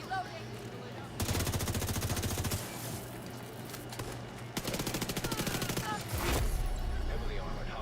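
Bursts of SMG fire in The Division 2, two sustained rapid volleys of automatic shots, loud and close, separated by a short pause, with game ambience underneath.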